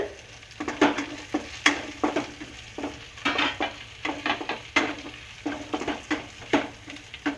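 Green chilies and cashews fry in a pan while a spoon stirs them, producing a steady sizzle broken by repeated scraping strokes in an uneven rhythm, close and fairly loud, with no talking.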